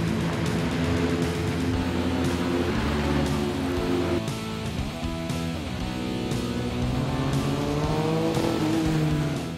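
A Formula 4 race car laps the Barbagallo racetrack, its engine climbing and dropping through gear changes with sharp high-revving whine and shifting pitch, loud and continuous with no talk.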